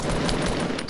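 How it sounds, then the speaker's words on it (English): Nonstop rapid gunfire from a glitched video game gun that keeps shooting on its own, a loud dense burst filling the moment with no pauses. "I have the glitch where it keeps on shooting constantly."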